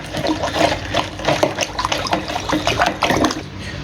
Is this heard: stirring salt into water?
yes